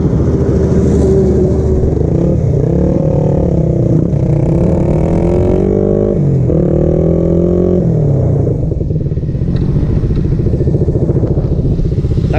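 Suzuki Raider R150 Fi motorcycle accelerating hard on a 400-meter run, a loud, close engine whose pitch climbs repeatedly through the gears with brief dips at each shift, steady and continuous throughout.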